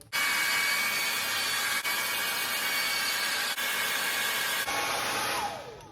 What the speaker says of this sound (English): I like to blow hot air first and then switch it over to cold so it's nice and solid.